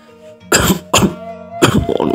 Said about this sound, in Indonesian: Ini batuknya dia.